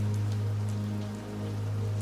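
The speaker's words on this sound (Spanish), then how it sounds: "La lluvia comenzó a golpear las ventanas" Rain patters steadily against windows, soft and continuous, with scattered light drop taps over a constant low hum.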